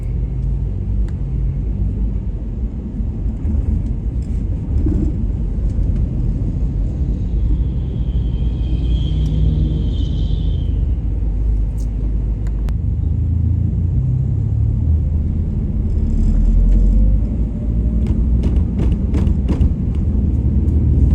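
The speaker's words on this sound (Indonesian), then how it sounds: "Macet karena ada putaran di depan Primaya Hospital." Congested city street traffic in front of Primaya Hospital, a constant low engine rumble from slow-moving vehicles with occasional passing whooshes, clicks and faint horn-like tones, heard from within the jam.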